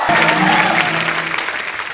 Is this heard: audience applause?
yes